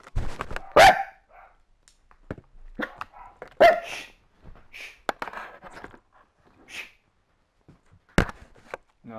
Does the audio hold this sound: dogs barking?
yes